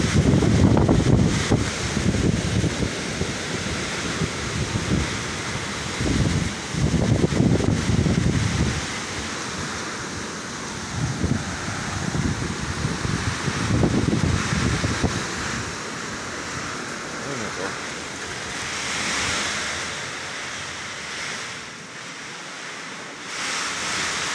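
Typhoon Aghon lashing Quezon Province with heavy wind and rain, loud gusting roars that surge and ease repeatedly before settling into a steadier wash of noise.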